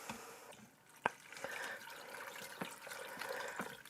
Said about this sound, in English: Okay, we're gonna add more water.